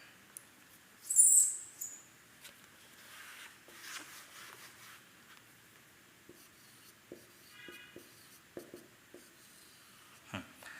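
A marker or pen scratches across a board while a matrix is written out by hand, producing intermittent short strokes and taps, faint and close, with no talking.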